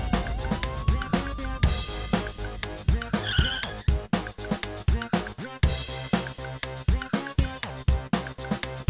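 A car swings around and speeds away with tire squeals and skids, a rising engine note and a rapid run of loud, rhythmic bursts, set in a crime thriller scene.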